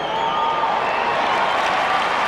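A football crowd at a 2003 Carlton versus Western Bulldogs match cheers and claps after a kick sails through for a point, a steady, dense wash of distant applause and crowd noise throughout.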